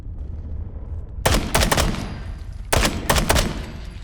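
Shotgun blasts from Fallout 4 gameplay ring out in two close groups of sharp, loud reports, each a quick cluster of three or four shots after a quiet start, with no talking.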